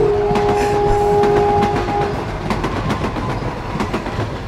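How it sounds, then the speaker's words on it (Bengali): A train horn blares with loud steady tones over the rumble and clatter of a passing train, a dramatic sound effect in a Bengali horror audio story, with the horn fading into the rolling rail noise. "আবার ট্রেনের হুটারের গগনভেদী হুঙ্কার"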